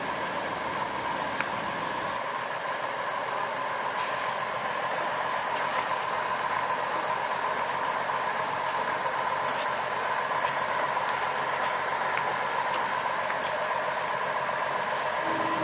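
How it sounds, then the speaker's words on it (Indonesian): A sugar cane train locomotive at the Kedawung sugar mill creeps along rails hidden under tall grass, giving a steady rumbling engine drone with rolling wagon noise throughout, fairly close and continuous with no talk. "Pelan-pelan lokomotif melewati jalur rel yang tidak terlihat karena tertutup oleh rumput."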